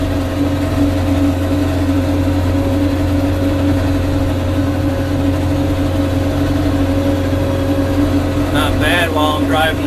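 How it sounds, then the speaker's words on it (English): Farm tractor driving across a food plot on rural Southern Illinois land, a loud, steady engine drone with a constant low hum throughout, close by, with brief faint sounds near the end. "Not bad while I'm driving the tractor"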